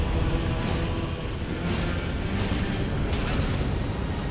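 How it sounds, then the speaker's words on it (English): Explosions in the video game Elden Ring keep up a dense, loud, continuous roar of booming blasts with a few sharper bursts layered on top, filling the whole stretch. "Explosions, not nice."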